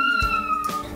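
A kitten meows once briefly, close and fairly loud, over a steady tonal background hum.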